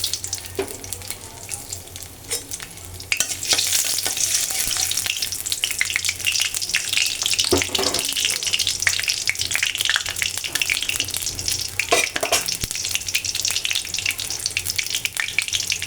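Bay leaves and ginger fry in mustard oil for a taro and dried fish dish, a quieter sizzle that jumps to a loud, dense, crackling hiss after a few seconds and stays up close with no voices.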